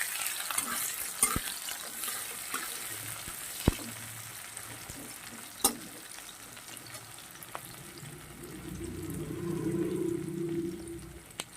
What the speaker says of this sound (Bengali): এটা একটু ভাজা হতে থাকুক